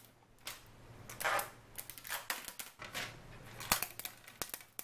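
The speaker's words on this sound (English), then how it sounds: "Let's remove the sticker." Sticker peeled off a D-Link DIR-850L AC1200 router, heard as close, faint, irregular crackling rips and tearing bursts in short uneven strokes, with no talking.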